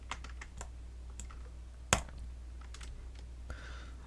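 Quiet, scattered keyboard taps and one sharper key press sound as shortcuts are entered while working in Cinema 4D R23, close and isolated with no talking.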